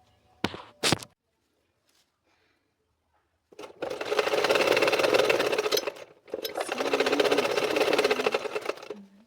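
Sewing machine stitching cloth, with two sustained whirring runs of rapid needle chatter separated by a brief pause, after a couple of short knocks and a stretch of silence.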